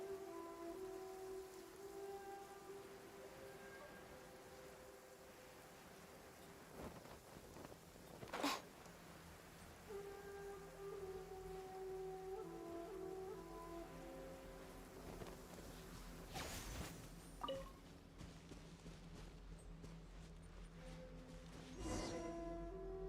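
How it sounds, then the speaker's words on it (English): Steady rain falls in the video game Genshin Impact, a soft continuous patter layered under melodic game music, with no voices. "If this rain keeps up"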